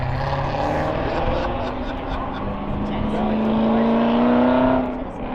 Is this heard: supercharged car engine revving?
yes